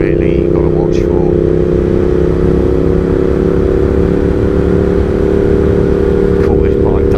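A Triumph Speed Twin 1200 motorcycle pulls hard under acceleration, its engine holding a loud, steady drone close to the rider with continuous wind rush throughout.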